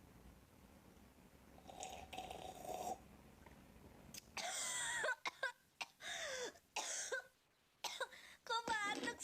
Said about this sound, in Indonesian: Kok batuk sih?